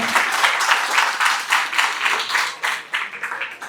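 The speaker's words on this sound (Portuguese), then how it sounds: "Aplauda minha sogra aqui" Church congregation applauding: dense, continuous clapping from a large crowd, loud and filling the room, fading slightly toward the end.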